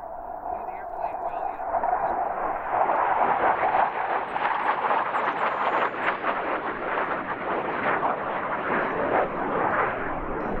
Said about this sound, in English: Today, this is the only F-100 active on the airshow circuit. This particular performance was recorded at the Selfridge Airshow.